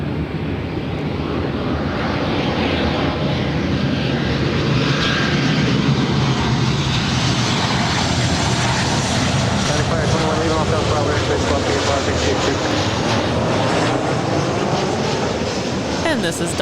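A Delta Airlines Boeing 737-900ER arriving from Seattle at LAX makes a loud, sustained jet roar whose pitch slowly shifts as it passes, with people talking underneath.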